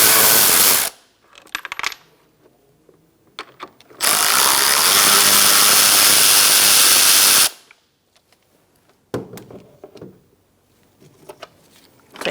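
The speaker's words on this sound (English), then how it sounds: "Using a 7mm," Two bolts are spun out with a 7mm socket on the air intake of a 2012-2018 Ford Focus, as the mass airflow sensor is removed: loud, close bursts of a power driver whirring between quieter clicks and handling noises, no talk.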